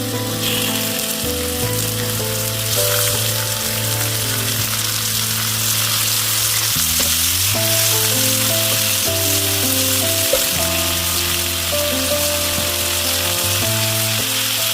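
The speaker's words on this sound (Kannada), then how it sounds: "ಎಲ್ಲವೂ ಬೇಯುತ್ತಿದ್ದಂತೆ ಇಸ್ವಣ ಮೀನಿನ ತುಂಡುಗಳನ್ನು ಒಂದೊಂದಾಗಿ ಅವುಗಳ ಮೇಲೆ ಇರಿಸಬೇಕು." Kingfish pieces fry in masala on a hot pan, giving a loud, steady sizzle that runs without a break from start to finish, with no talking.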